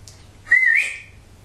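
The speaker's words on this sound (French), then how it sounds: "Alors j'ai sifflé" A single person whistles one short, rising-and-falling note indoors in a quiet house during a paranormal investigation, clear and close against near silence.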